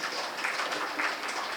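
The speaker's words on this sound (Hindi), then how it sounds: "एक तालियां हो जाए आपके लिए" Audience applause at a Hindi literary review event, a steady mid-level patter of clapping that runs the whole short stretch without breaks, with no voices over it.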